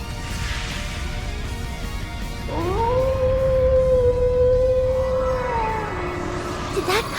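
A wolf howls in the game Trails into Reverie, a long sustained rising then level tonal cry over a rumbling background, bending down near the end.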